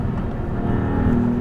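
A Maserati GT2 Stradale, a road-registered race car with an eight-speed dual-clutch gearbox, drones loudly and steadily from the cabin, a close low engine roar on a bumpy road.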